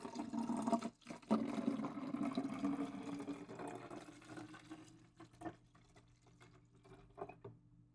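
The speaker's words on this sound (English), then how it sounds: "I'll use this empty mug and pour over that" Liquid pours into a large mega pint mug, a continuous splashing stream for about five seconds that then thins into a few scattered drips and trickles, close and fairly quiet.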